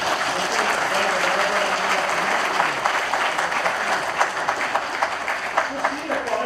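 An audience at an IP launch event claps for Dr. Somani, a dense, steady round of applause that stays loud throughout, with some individual claps standing out toward the end.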